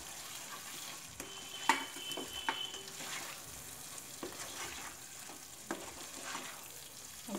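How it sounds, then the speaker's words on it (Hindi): Fried potatoes being stirred into a simmering dum aloo gravy, with a few sharp scrapes and clinks of the spoon over a low, steady sizzle. "अभी हम इसमें डालेंगे आलू जो हमने फ्राई किए थे।"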